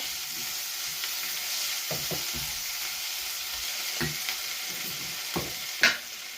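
Egg masala curry with onion and tomato stir-fried in a pan, a soft steady sizzle with a few scattered scrapes and knocks of a spatula, close by.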